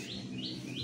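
Songbirds at a large murai batu (white-rumped shama) breeding farm chirp in repeated rising whistles, about three short calls over a steady low background hum, with no talking.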